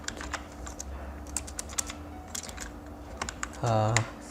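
Rapid, close clicks of typing on a computer keyboard while entering text in Photoshop, with quiet irregular keystrokes and a brief humming tone near the end.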